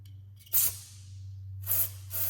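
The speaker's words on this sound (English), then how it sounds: "take your carb cleaner, and you're going to want to aim this somewhere safe, and just go into the jet and spray it out" Carburetor cleaner is sprayed into the jet of a Mikuni round-slide carburetor in two short, sharp hissing bursts with a quiet pause between them.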